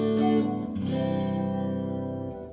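A Gibson Les Paul Modern Studio electric guitar, 2024 model in Smokehouse Burst, played through its coil-tapped neck pickup, with sustained chords ringing out under a heavy effects and distortion tone, fading slowly, with no voice.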